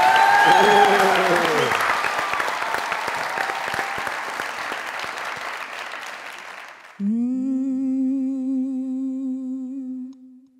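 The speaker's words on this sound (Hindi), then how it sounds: "हमारे शो में एक बार जोरदार तालियां बजाइए।" Loud studio audience applause on a comedy talk show fills the first seven seconds and fades, then a woman begins singing.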